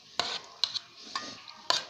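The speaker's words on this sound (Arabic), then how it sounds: "وهلا حنقلب اللحمة كرمال تدقع كتير." Meat being turned in a cooking pot for rice and meat, giving a few clinking spoon-against-metal strikes with soft scraping between them, close and moderately quiet.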